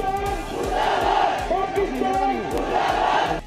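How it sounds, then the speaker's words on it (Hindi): A large crowd at a soldier's funeral chants patriotic slogans in loud, rhythmic unison, voices rising and falling in repeated shouted phrases over continuous crowd noise. "भारत माता की जय, शहीद जवान अमर रहे और पाकिस्तान मुर्दाबाद के नारों से आसमान गूंज उठे"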